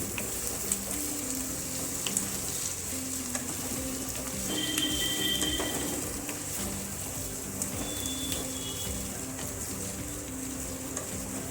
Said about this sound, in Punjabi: ਆਲੂ ਵੀ ਪਿਆਜ਼ਾਂ ਦੇ ਨਾਲ ਤੜਕੇ ਦੇ ਨਾਲ ਭੁੱਜ ਜਾਣਗੇ